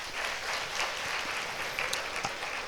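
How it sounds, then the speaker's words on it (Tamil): An audience at a student speech event claps together in a dense, steady round of applause, moderately distant and sustained for a few seconds. "ஒரு பெரிய கைத்தட்டு கொடுக்கலாம்."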